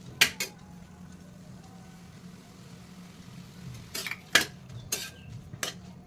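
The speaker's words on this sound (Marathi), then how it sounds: "मिक्स करायचे मीठ घालून" A metal spoon scrapes and clinks against a pan while mixing salt into sautéed tandulsa leaves with red chilli powder, a few sharp clustered clinks near the start and again later over a faint background hum.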